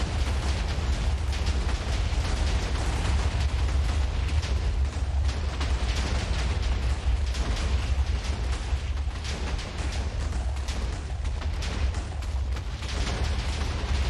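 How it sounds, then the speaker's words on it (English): Chained TNT blocks detonating across a village in Minecraft, producing a dense, continuous roar of overlapping booms and crackling blasts that stays loud and steady for the whole stretch with no talk. "I linked it all together too, just to make this beautiful explosion"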